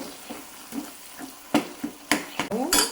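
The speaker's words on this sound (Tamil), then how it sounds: "நல்லா சுருளாக வதக்கி இறக்குங்க." Homemade tomato paste is stirred and sautéed in a pan, with scattered scraping clinks of a spoon and soft sizzling that builds toward the end.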